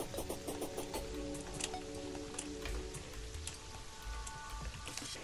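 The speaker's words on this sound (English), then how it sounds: "The weather is currently rain." Rain weather in the video game Terraria patters steadily as a continuous hiss of drops hitting surfaces, fairly faint, with scattered tonal game sounds mixed in and no speech.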